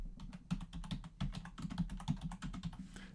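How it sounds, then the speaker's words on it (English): Typing on a computer keyboard, a quick irregular run of soft close key clicks for a few seconds, alone and fairly quiet. "So we're going to type in select disk one"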